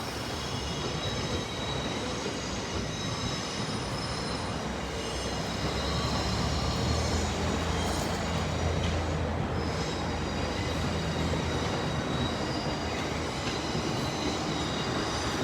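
Continuous roar of trains moving through busy Roma Street railway station in Brisbane, with rumbling wheels and occasional high squeals, loud and sustained with no talking.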